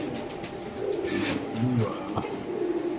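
A racer pigeon coos softly up close, a low throaty burble repeating over a busy background of other birds and faint murmuring.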